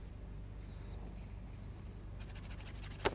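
A pencil is rubbed against a sandpaper block to grind off graphite dust, first a faint, low scratching and then a brighter, rhythmic rasping of quick strokes up close, ending on one sharp scrape.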